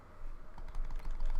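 Computer keyboard keys pressed in quick, uneven bursts while playing Undertale, clicks growing denser and louder toward the end, close and without speech.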